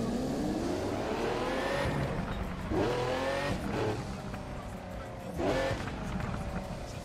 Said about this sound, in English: Y'all need to hear this car.